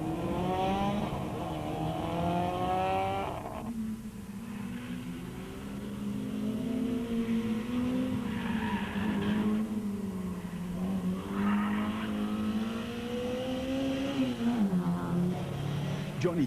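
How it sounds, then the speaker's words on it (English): Big rally cars race around the tight corners of the Swartkops karting track, engines revving up and down in repeated surges and tires squealing in places, under a narrator's voice. "the big rally cars battling to get around the tight corners designed for meter-long go-karts"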